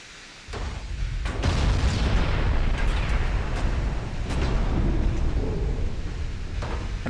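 Naval shells burst in the Dreadnoughts Imperial Austrian campaign, a sudden deep boom kicking in and rolling into a sustained loud rumble of explosions and heavy low-end noise that lingers without speech.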